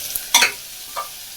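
Sliced onions frying toward golden brown in a pan for mutton curry, one sharp burst of sizzle and scraping followed by a fainter stir, close and brief.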